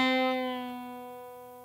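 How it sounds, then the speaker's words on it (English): One guitar string picked while already bent, its pitch sliding down to the normal note as it sustains and slowly fades, heard close and alone. "This means you pick the string while it's already bent and then bring it back down to its normal"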